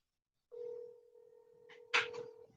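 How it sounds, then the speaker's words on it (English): A phone line gives a steady electronic tone for about two seconds after a call is placed, with a brief burst of a louder click or beep near the end, heard close and alone. "Let me call him."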